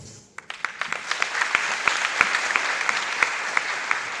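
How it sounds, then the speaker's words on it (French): An audience at a graduation ceremony applauds, with steady clapping that swells after a quiet start and carries on throughout, marked by a few sharper individual claps. "Vos applaudissements"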